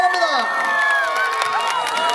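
At a cherry blossom festival at a resort in Cheonan, an outdoor crowd cheers and shouts for a trot singer taking the stage, with high excited voices and whoops forming a continuous loud roar.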